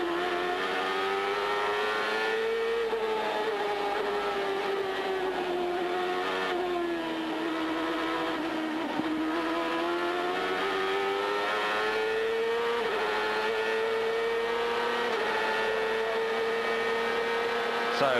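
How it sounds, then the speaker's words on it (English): A Ford Cosworth CART race car engine howls continuously at high revs at the 1997 Cleveland race, pitch rising and dipping with gear changes, loud and close throughout. "Let's just have a little listen to the engine working hard."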